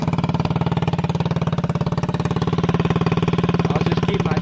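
A 70cc Chinese quad engine idles high with no battery fitted, running close by as a steady, rapid, even putter that holds a constant pace and level throughout, with no talking.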